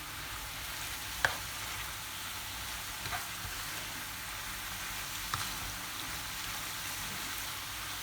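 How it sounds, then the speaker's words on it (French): Onion and a mixture stirred in a pan for chicken briouats give a faint, even sizzle with occasional soft clicks of a utensil against the pan, quiet and without speech. "je vais mélanger tout le mélange ensemble."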